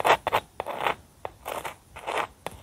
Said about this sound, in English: this is what you hear when you attempt to spread that toast.